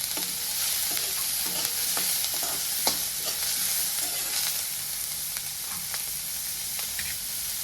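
Onion frying in oil in a pan, giving a steady close sizzle throughout with occasional light stirring taps and scrapes, with no voices.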